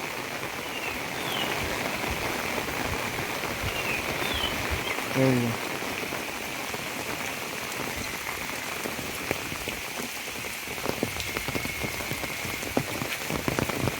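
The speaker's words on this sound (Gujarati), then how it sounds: "આ ડુંગરમાંથી પાણી આવીને ભરાય છે ખાડો તો જો આ એક ધોધ પડે" Rainwater running off a hillside pours into a pit like a small waterfall during a day of very heavy rain, making a constant close splashing wash with brief bird calls faintly above it.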